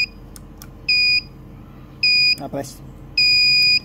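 A coin-operated outlet timer gives three clear electronic beeps, each lasting about a third of a second and spaced roughly a second apart, close and loud, with a brief spoken word between them.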